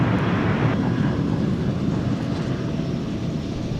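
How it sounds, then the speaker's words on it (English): MD-11 jet airliner taking off at DFW Airport: a loud, continuous engine roar that slowly eases in strength, with no talking. "we're going to get an MD-11 takeoff for you here"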